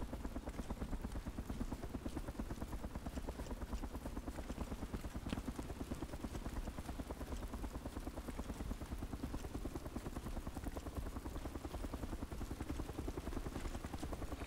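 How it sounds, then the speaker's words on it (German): Steady, fast rotor thumping from helicopters in the video game DayZ fills the background, fairly faint and unchanging, with no one talking. "Jetzt höre ich noch die Helikopter,"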